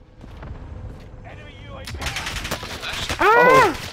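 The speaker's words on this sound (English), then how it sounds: "Oh, you're getting shot at." Video game gunfire crackles in a few scattered bursts under voices, with a sharper louder stretch near the end as players react to being shot at.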